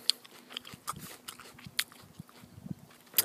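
Someone biting into and chewing fresh produce picked in a home garden, a few soft crunchy bites and wet chewing sounds heard close and fairly quiet, with outdoor rustling around them and no talking.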